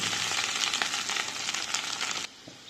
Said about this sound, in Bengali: দিয়ে দিচ্ছি কাঁচামরিচ, হাই হিটে একটু ভেজে নেব